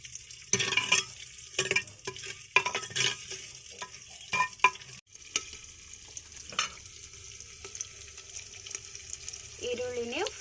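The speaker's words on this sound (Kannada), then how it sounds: "ಈರುಳ್ಳಿನೇ ಫ್ರೈ ಆಗಿದೆ." Onions fry in oil in a pan for hotel-style sambar, giving a faint sizzle under repeated stirring and scraping clatters, with a short metallic sound near the end.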